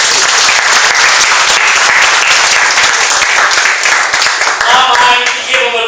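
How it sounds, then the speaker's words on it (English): Loud, close applause fills a weekly business networking meetup in San Jose, many hands clapping continuously, with a voice speaking over it near the end. "Just big round of applause!"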